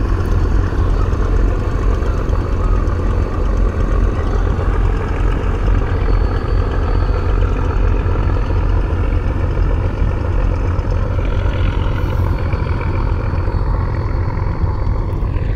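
Passenger launch boats departing a Charmonai mahfil gathering in Bangladesh, their engines droning in a steady, loud low rumble that holds unbroken throughout with no pauses.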